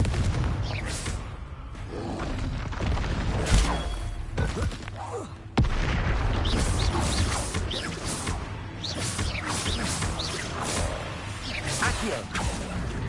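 The Confringo blast spell is cast during combat in Hogwarts Legacy, loud fiery whooshes, thuds and booming impacts over dense, continuous game action with a sharp burst partway through.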